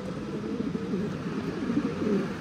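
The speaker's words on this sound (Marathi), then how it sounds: "असे रिटर्नचे कबूतर आहेत आपली" Homing pigeons coo in a loft, a steady stream of low, throaty, overlapping calls close by at moderate volume with no voices.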